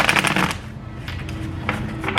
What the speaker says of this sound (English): I have to get these cards shuffled though